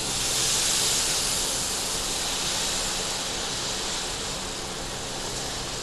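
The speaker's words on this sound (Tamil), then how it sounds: "சூடான இந்த மாவை இதில் ஊற்ற போகிறோம்." Hot dosa batter hits a heated stone griddle and sizzles in a broad, steady hiss. The sizzle stays loud and even, easing slightly toward the end, with no talking.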